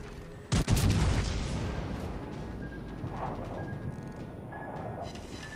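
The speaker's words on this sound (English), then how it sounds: "There's the torpedoes. Torpedoes, dead ahead." Torpedoes striking a warship in a naval video game: a sharp double boom followed by a long rumbling roar and debris-like crackle that slowly fades, loud and close.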